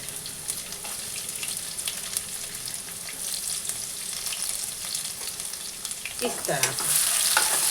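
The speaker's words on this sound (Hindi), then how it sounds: "इसमें डालेंगे हम अनियन, प्याज को अच्छी तरह से चॉप कर लें और इसे हमें गोल्डन ब्राउन तक भून लेनी है।" Chopped onions fry in crackling hot ghee with a steady, close sizzle throughout, and stirring scrapes join in toward the end as the pan grows louder; a voice speaks briefly.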